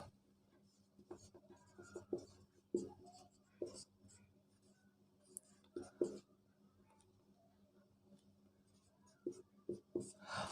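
A teacher writes during a Hindi lesson on fundamental rights, with scattered scratchy strokes and taps coming in short bursts at moderate distance, and faint speech in the background.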